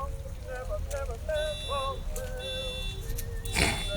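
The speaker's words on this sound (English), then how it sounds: "The candy alarm has gone off," A comedic electronic alarm sound effect on a candy-tasting show, a run of beeping, warbling tones that repeats several times and ends in a brighter burst, with no speech over it.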